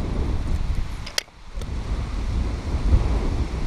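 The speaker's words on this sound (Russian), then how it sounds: "Ветер, конечно, здесь тоже ужасный," Strong wind roars steadily across the microphone at a pike fishing spot among water lilies, a dense rumbling rush with a brief dip midway before gusting on at full force.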